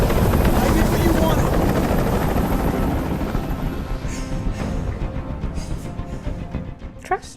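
A helicopter in the video game Detroit: Become Human, loud and droning with steady rotor thrum that gradually fades over several seconds as brief voices and clicks surface near the end.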